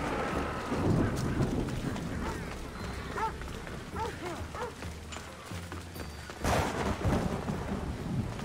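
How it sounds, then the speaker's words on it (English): Thunderstorm in the video game Assassin's Creed Odyssey: rolling thunder and steady rain with a loud crack of thunder near the end, a voice briefly heard underneath. "What is all this thunder?"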